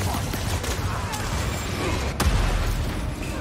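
A rapid fusillade of gunfire from Marvel's Spider-Man 2 crackles over a busy, rumbling game scene, with a sharp louder burst partway through.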